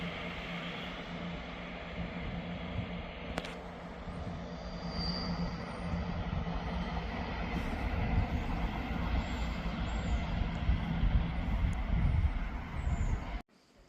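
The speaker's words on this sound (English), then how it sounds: "That train is departing out about 3 minutes late." A ScotRail passenger train rumbles steadily and grows louder as it pulls away from Ladybank station, with a sharp metallic clank early on and faint wheel squeal above the heavy drone.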